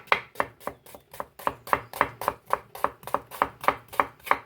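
Onions are chopped with a knife on a board, about sixteen crisp, evenly spaced cuts in a quick steady rhythm, close and clear with no talking.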